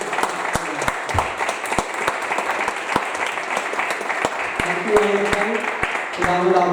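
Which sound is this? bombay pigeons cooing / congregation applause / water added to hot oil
congregation applause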